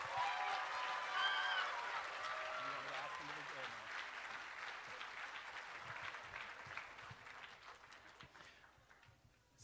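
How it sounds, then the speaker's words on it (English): An audience at a state civics and debate championship applauds a teacher and coach. The clapping is warm and sustained, loud at first and then slowly fading, with a few crowd voices mixed in. "help me give a warm applause for that teacher and coach"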